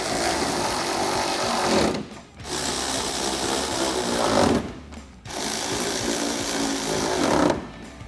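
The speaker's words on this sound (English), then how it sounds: "we can grab our 8mm socket to tighten these all down" An 8mm socket drives headlight bolts on a 2019-2023 RAM 1500 with a loud, close motorized whir, three long runs separated by brief pauses.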